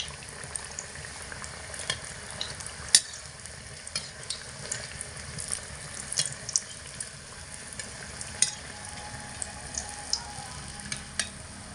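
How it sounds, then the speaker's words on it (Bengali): Continuous bubbling sizzle of egg and flour fritters deep-frying in oil, with frequent small pops and crackles throughout, close by and steady, with no talking. "এইভাবে একটু ঘন ঘন উল্টে পাল্টে দিয়ে তেলে ভাজাগুলোকে ভেজে নিতে হবে"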